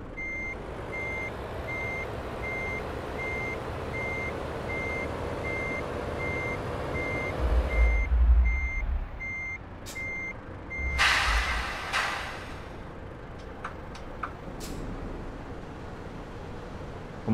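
A bus in Euro Truck Simulator 2 reverses with steady, evenly spaced backup beeps over a low engine drone, then a hiss of air brakes and a few short mechanical clicks toward the end.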